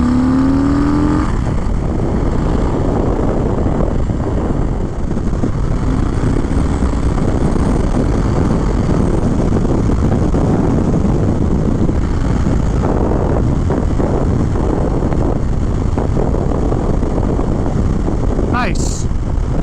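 Vehicle engine with factory exhaust pipes, grunty and raspy, accelerating loudly and continuously under strong wind rush, heard close up from on board throughout.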